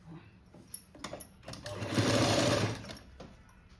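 Sewing machine topstitching a puff sleeve on a blouse, a single short close burst of stitching rising and fading within about a second, preceded by light handling clicks.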